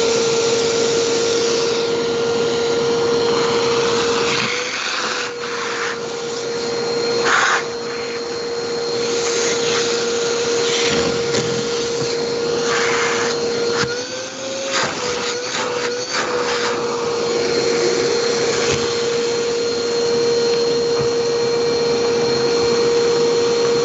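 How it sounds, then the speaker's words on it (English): A shop vac runs continuously at close range, a loud, steady droning whine with a constant hum and no pauses, with no voices over it. "turn the shop vac on"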